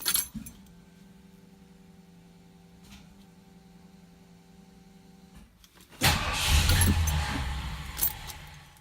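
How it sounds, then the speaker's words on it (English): A 1973 Ford Gran Torino V8 fitted with Sniper EFI makes a cold start. A long, faint, steady electrical hum and a few small clicks come first, then the engine abruptly catches and roars loudly, idling rough and uneven close by. "This is a Sniper EFI cold start."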